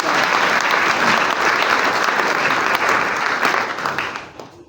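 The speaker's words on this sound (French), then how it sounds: "Acclamons pour la gloire de Dieu." A church congregation breaks into loud, sustained applause, dense clapping that holds steady for several seconds before thinning out at the end.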